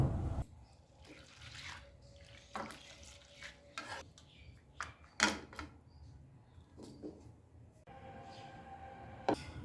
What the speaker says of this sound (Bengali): এবার ডালটা দু থেকে তিনবার ধুয়ে নেব